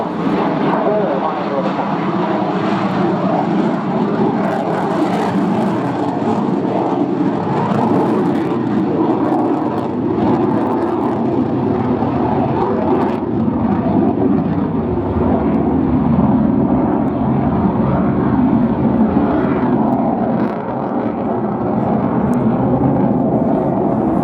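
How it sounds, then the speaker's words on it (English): A Polish Air Force MiG-29A with two reheated engines roars in a display at the Royal International Air Tattoo 2016, a loud, sustained jet rumble that swells and fades slightly while a voice talks over it. "Two reheated engines with a power to weight ratio of greater than 1 to 1"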